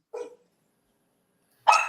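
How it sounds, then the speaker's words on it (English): A dog gives two sharp, close barks about a second and a half apart, the second louder and longer, with silence between and no talk. "Is that my dog?"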